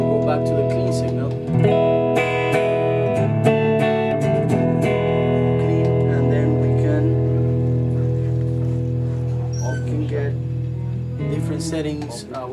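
A clean, undistorted electric guitar rings out in sustained chords and picked notes, steady and close, with no talking.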